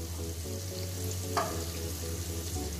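Mutton pieces hit hot oil with tomatoes already fried down in the pan for a homemade Indian mutton curry, giving a steady close sizzle with a brief splash partway through.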